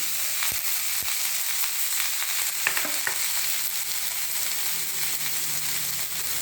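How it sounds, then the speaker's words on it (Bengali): Bottle gourd pieces frying in a pan with green chilli, salt and turmeric, making a continuous close sizzle with a few sharp knocks and scrapes of a stirring utensil, no talking. "হলুদ দিয়ে আর একটু লাউটাকে আমি ভেজে নেব।"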